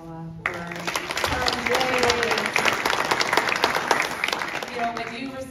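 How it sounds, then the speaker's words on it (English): A meeting audience at a South Seattle multi-agency roundtable breaks into a round of applause, dense clapping that starts abruptly after a brief spoken word and carries steadily for several seconds before thinning out. "maybe we could give one more round of applause as well for Commissioner Hasegawa"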